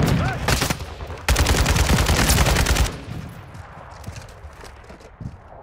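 Rapid automatic gunfire in the video game Call of Duty Modern Warfare 2, loud sustained bursts for about three seconds before fading to quieter background game sounds.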